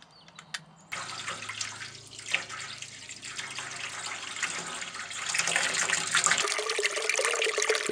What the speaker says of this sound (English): The trough will continue to fill until the water level activates the float switch and cuts out the pump.